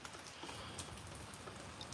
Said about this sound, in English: Wasn't supposed to rain today, but it's raining.